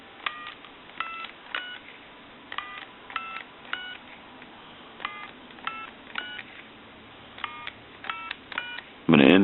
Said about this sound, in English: I'm going to hit reset and redial.